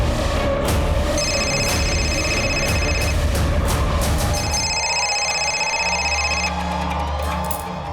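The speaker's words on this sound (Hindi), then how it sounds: "अरे मेरा फोन बज रहा है" A mobile phone rings in two long bursts of bright electronic tones, fairly loud over a busy background of chatter and festive crowd noise at a Holi celebration with guests, the noise dropping away partway through.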